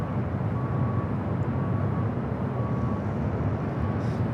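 JetBlue airliner departing LAX for Boston, a steady broadband roar of jet engines that holds loud and constant throughout, with a faint thin tone riding above it.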